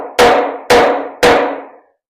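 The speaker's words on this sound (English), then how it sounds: "let's try hammering it in real quick and see if we can't" Three loud, evenly spaced hammer blows drive a nail into a wooden board during construction of a chicken brooder. Each strike is sharp and close, with a brief ringing decay, and no voices are heard.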